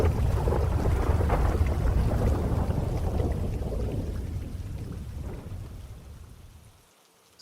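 A rainstorm with thunder, a dense rolling rumble over steady rain that slowly fades away to near silence before a sudden burst at the very end.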